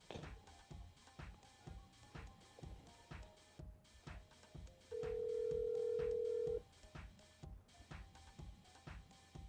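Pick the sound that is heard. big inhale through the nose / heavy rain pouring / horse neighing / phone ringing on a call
phone ringing on a call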